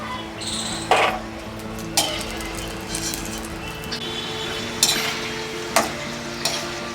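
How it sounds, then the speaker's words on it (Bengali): Nimki dough snacks fry in oil on low heat, a steady sizzle broken by sharp clinks and scrapes of a spatula turning them in the pan, close and with no talk. "আমি লো হিটে দিয়ে নিমকিগুলো ভেজে নিচ্ছি"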